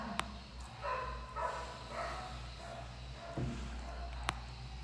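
Dogs bark in short bursts out in the street, faint and distant, over a low steady background hum.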